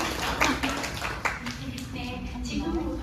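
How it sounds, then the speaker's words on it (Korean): A small classroom audience claps briefly before a student presentation, with a few sharp claps near the start under chatter and a voice speaking. "여러분 큰 박수 부탁드립니다."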